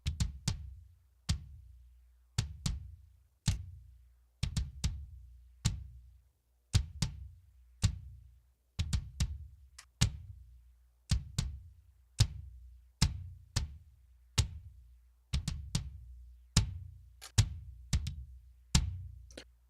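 Punchy layered kick drum samples, including a sub kick and a glass kick, repeat in a steady pattern, deep and thumping with sharp attacks, some beats doubled, alone without other instruments.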